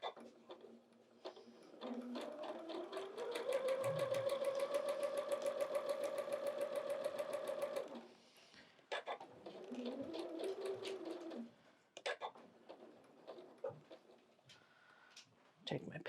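A sewing machine stitches quilt pieces in two bursts, a long steady whirring run followed by a shorter one, with quiet clicks and handling noises in between at close range.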